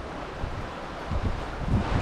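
Wind gusting over rocks at the seaside near Yumurtalık, Adana, a rough roaring rush buffeting the microphone, swelling louder in the second half with faint surf beneath.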